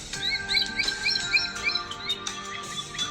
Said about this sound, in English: Today's Talkin' Birds featured feathered friend, the common blackhawk.